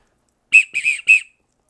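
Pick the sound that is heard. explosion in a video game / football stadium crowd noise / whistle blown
whistle blown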